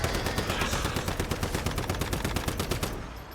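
Rapid automatic gunfire in the survival shooter Once Human, a dense, loud stream of shots rattling steadily for about three seconds before easing off, with no talking.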